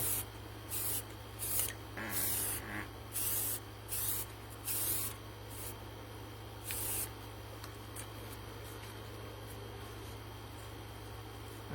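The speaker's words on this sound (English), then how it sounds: "So I'm just standing back and spritz and spraying just a little bit." Gray spray paint applied to a resin shark model kit in a quick cluster of short, close bursts, then a few sparser spritzes before fading to a steady background hum; no one speaks.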